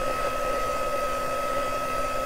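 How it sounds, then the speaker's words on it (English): A hair dryer blows steadily and loudly with a constant whirring hum and airy rush, no speech. "I can use a hair dryer."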